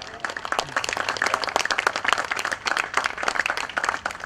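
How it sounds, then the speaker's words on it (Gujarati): An audience at a first-book event breaks into steady, crisp applause, with many close hand claps in a continuous patter and light voices mixed in. "એમણે ખૂબ સરસ લખ્યું છે એટલે તાળીઓ પાડજો"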